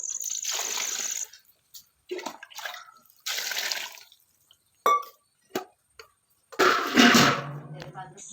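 Water is poured into a pot to boil jackfruit pieces, in several short splashy bursts separated by pauses, close by, with a sloshing gurgle at the end.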